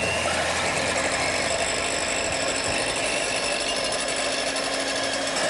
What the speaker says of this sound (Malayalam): ഇനി നമുക്ക് ബ്ലെൻഡർ ഉപയോഗിച്ച് നന്നായിട്ട് ബീറ്റ് ചെയ്യാം.